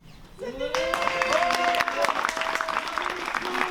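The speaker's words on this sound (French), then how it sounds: "Moi j'applaudis pour l'appareil." A film crew applauds at the end of a shoot, a burst of scattered clapping that starts abruptly and carries on under overlapping voices and chatter nearby.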